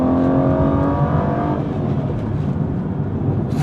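An Aston Martin V12 Vantage with its secondary catalytic converters deleted, running in normal mode, gives a loud steady exhaust rumble that eases off partway through as the revs settle.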